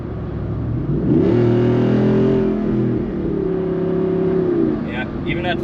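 A 2021 Jeep Wrangler Rubicon 392 V8 with an aftermarket exhaust revs up sharply, holds a loud rumbling drone from inside the cabin, then eases off as it shifts.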